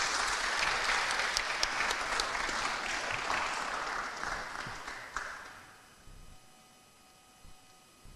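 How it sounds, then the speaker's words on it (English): Audience applause welcoming a speaker at an international philosophy seminar, steady clapping that gradually fades out over about six seconds, leaving quiet room tone. "Give applause"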